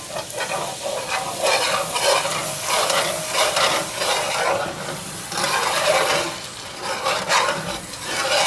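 Melted butter and minced garlic sizzle and crackle steadily in a hot pan while being stirred, a close, continuous frying hiss with no talking.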